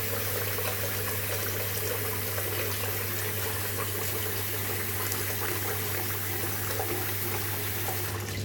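Water runs steadily from a tap while being added to a pure badger shaving brush and soap, a continuous close hiss with a low hum beneath.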